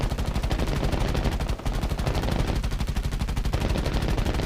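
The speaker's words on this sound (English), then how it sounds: "This is a very nice machine gun on this thing." Sustained rapid machine gun fire from an ARL-44 heavy tank in War Thunder Mobile, aimed at aircraft, loud and continuous with one brief pause.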